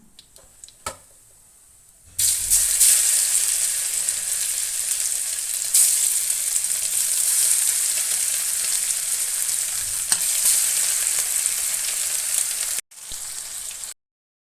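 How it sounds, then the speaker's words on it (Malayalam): Whole fish with only the heads removed fry in hot oil, a loud, steady sizzle that starts abruptly after a quiet lead-in, runs unbroken and briefly cuts out near the end. "ഇനി ഇത് ബാക്കിയുള്ളതും കൂടി ഫ്രൈ ചെയ്തെടുക്കാം"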